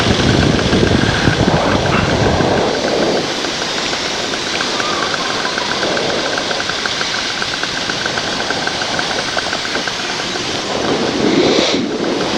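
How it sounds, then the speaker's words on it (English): A small aircraft passes near a paramotor launch area, its engine drone and propeller buzz rising loudly at the start and again toward the end, with a steady hum between and no speech. "Here comes a plane again."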